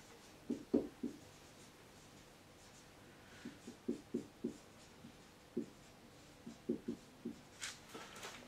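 Chalk or marker taps and scratches on a lecture-hall board come in short bursts, soft clicks and strokes spaced irregularly through a quiet room.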